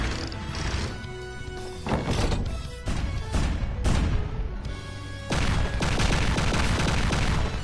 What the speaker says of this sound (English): I wanted to show you what the cannons do. The cannons will absolutely come in